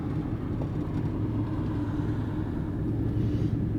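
A steady low rumble of a car on the road, continuous and moderately loud throughout with no voices.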